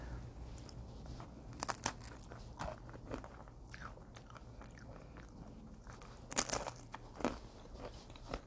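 Crackers topped with homemade cranberry sauce are bitten and chewed at a vegan lunch, giving close, crisp crunches in scattered bursts with louder snaps around the middle and later, over a quiet background.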